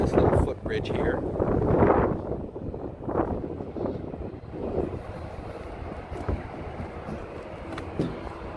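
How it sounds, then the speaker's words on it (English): Airplanes pass near SFO airport with a broad, rumbling roar that swells and fades like waves, strongest early then easing into a steady distant drone, with wind buffeting the microphone and people talking. "even though you can hear the planes"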